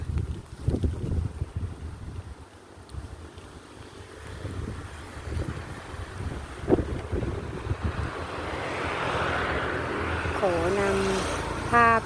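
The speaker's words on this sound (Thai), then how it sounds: "ลมพัดนะ" Wind blowing outdoors among plumeria flowers, buffeting the microphone with low rumbling gusts that build toward the end, while someone talks intermittently over it.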